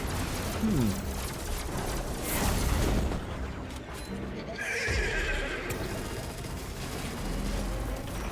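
A video game horse lets out a loud whinny over clip-clopping hooves and busy action-game effects, with a voice briefly underneath.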